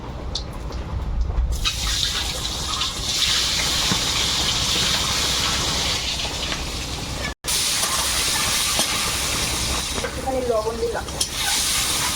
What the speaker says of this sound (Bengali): কড়াইতে তেল দিয়ে দিচ্ছি সামান্য একটু হলুদ তেলের মধ্যে এবারে দেবো ডিমগুলো